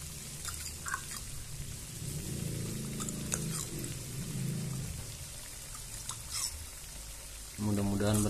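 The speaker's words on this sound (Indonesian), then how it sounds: "kemudian kita siram bagian atasnya ya" Liquid poured over the tops of egg sausages cooking in a 14-hole pan gives a steady, close, rain-like patter and sizzle, with faint voices and clatter in the background.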